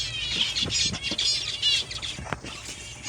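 A pigeon flaps its wings on release, giving several quick, close, breathy bursts of wingbeats that come in short clusters and then trail off.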